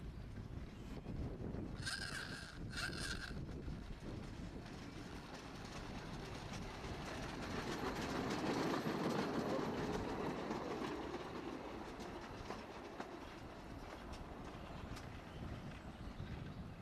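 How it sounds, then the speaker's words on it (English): A two-person rail velocipede built on a railway trolley frame rolls along track in Cumbria, giving a faint steady rumble of wheels with a couple of brief rattling clicks early on. "another 2-person velocipede, again clearly built on the frame of a railway trolley"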